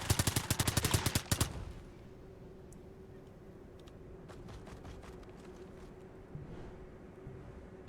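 Rifle gunfire in the video game Iron Nest: a rapid close burst of loud shots that stops abruptly, followed by scattered faint clicks and ticks over a low hum.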